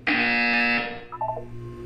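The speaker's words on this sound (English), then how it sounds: "You will hear a buzzer." A loud electronic buzzer in Portal 2 blares steadily for under a second, then a fainter, warbling tone trails off beneath a low background hum.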